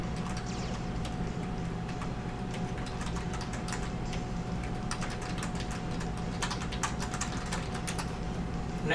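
Rapid keyboard typing plays without pause for several seconds. The clicks sound close and steady, with a faint constant hum underneath.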